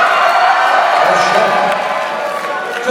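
Crowd noise from a live comedy roast of Charlie Sheen in Washington, D.C., a steady dense roar of cheering and shouting that holds loud throughout and eases slightly near the end.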